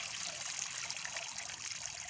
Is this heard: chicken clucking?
no